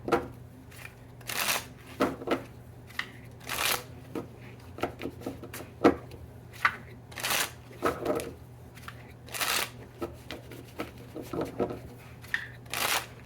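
Playing cards are shuffled repeatedly in quick riffling bursts, each followed by short taps and pauses, close and fairly quiet.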